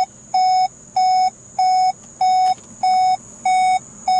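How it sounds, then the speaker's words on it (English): A 2018 VW Golf R's ignition-on warning chime beeps with the door open in a steady, insistent rhythm, seven evenly spaced tones repeating close by with a faint hum underneath. "I get the little ignition on warning, and it's just beeping like crazy."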